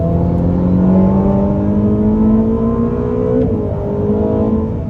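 A Ferrari SF90 Stradale pulling hard in fourth gear on a dry race track, its engine note climbing steadily in a loud, sustained rising drone, a brief dip near the end and then continuing strong, heard close from inside the car.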